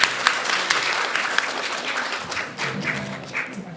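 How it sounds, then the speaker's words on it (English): Scattered applause from an audience at a youth speech competition, uneven claps with a few sharp near taps and thuds, moderately loud and thinning toward the end. "Let's have one more round of applause for all of our grades 7 to 8 category"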